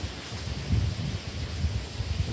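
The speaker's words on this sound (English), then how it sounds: "Now here comes another gust. I can hear it coming." A strong wind gust pushing through trees, including a pecan tree, as a steady broadband roar and rustle that swells and eases over a couple of seconds, with no talk.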